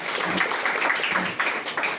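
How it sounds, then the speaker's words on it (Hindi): Village children at a general knowledge competition in Prayagraj, Uttar Pradesh, clap loudly together, a brief dense burst of many small hands sustained for a couple of seconds. "जोरदार ताली ताली ताली"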